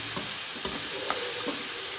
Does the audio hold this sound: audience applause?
no